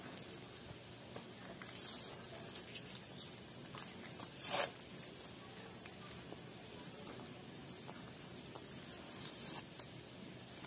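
Super Clear artist tape peeled slowly off painting paper, a soft continuous ripping and crackling that stays close and quiet, with one sharper tearing burst midway and no talking.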